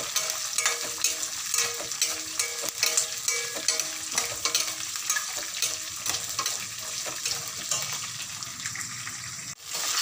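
Small onions fry in a pan with a steady, bright sizzle and crackle, punctuated by occasional stirring scrapes and clacks, close and continuous with no talking.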